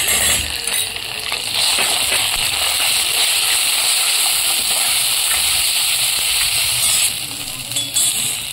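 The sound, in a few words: ginger-garlic paste and grated coconut added to hot pan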